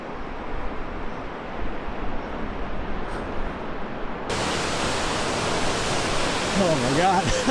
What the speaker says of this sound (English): there's a waterfall right there.